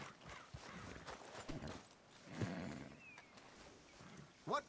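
Horse hooves clop at a walking pace in Red Dead Redemption 2, a loose, uneven run of close hoof falls mixed with game ambience, brief animal snorts and a faint voice.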